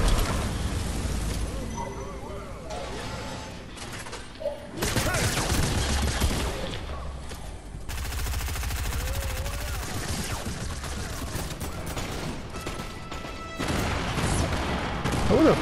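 Fortnite match with dense automatic gunfire and grenade explosions, rapid bursts and heavy booms packed together nearly nonstop, with a player's voice talking over the battle.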